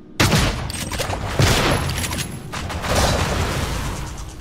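Two sharp gunshots ring out in the sci-fi game Prey, loud and close, followed by mechanical clatter and a lingering rumble.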